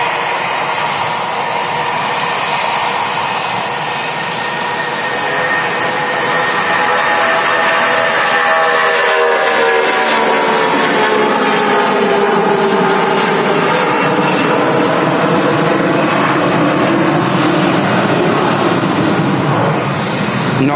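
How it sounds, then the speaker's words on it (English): A Jet2 Boeing 757 rolls down the runway on its takeoff run at Manchester Airport, bound for Palma de Mallorca. A loud, steady jet roar builds with rising whining tones and fills the whole stretch without pause. "Jet2 757 rolling down the runway"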